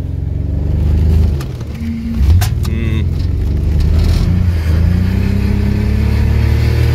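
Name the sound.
BMW E36 engine revving during skids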